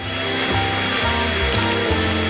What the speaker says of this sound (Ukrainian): Я можу спробувати розморозити її гарячим повітрям із фену.